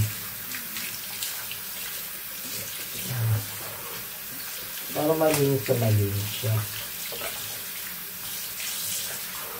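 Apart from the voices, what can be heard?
tap water running while washing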